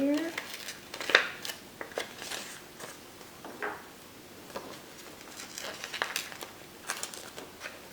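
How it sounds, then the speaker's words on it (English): Scissors trim a paper image for a junk journal cover, snipping and crinkling up close in irregular bursts with soft rustles of handled paper between the cuts. "let me do a little trimming here"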